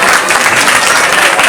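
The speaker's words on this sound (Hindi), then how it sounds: "Everybody please clap." Loud, close audience clapping at a dance academy award ceremony, a dense burst of applause for a prize-winning young dancer that stays full and even throughout.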